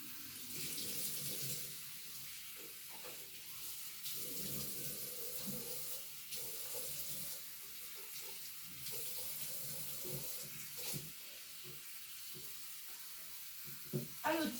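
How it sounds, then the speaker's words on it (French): Water runs from a bathroom sink tap in a steady hiss while someone rinses their face, with uneven splashes close by and a voice speaking at times. "Donc là, je vais me rincer pour le premier nettoyage."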